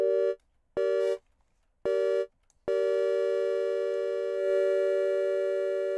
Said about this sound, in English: So that's our minor chord. Again, we're only using sine waves